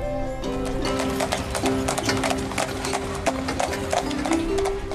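Horses clip-clopping on hard ground at a tourist stop in Kazakhstan, a steady near rhythm of hoof taps running throughout with a faint whinny-like tone beneath.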